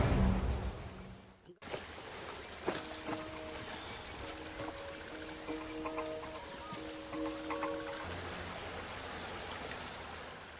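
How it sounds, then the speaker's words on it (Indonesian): A clear river flows in a film scene: a soft, steady rush of water that stays quiet and continuous throughout, with a faint tonal hum in the middle and no speech. "Tak lama Afi dan tim menemukan sungai jernih sehingga mereka memutuskan untuk mandi dulu"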